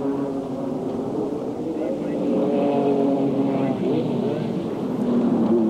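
Formula Holden race cars lap Amaroo Park, engines droning with rising and falling pitch as they pass at a distance, a steady roar beneath a commentator talking throughout.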